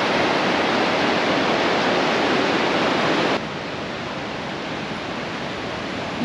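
A wide, large river flows steadily near Machu Picchu in Peru, a loud continuous broadband rush like heavy whitewater that drops slightly in level partway through and carries on without any voices.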